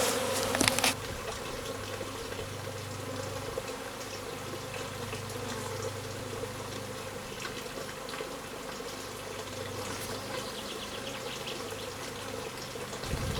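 Small secondary honeybee swarm with many queens buzzing continuously nearby, a steady droning hum with a few sharper knocks at the start and around the middle.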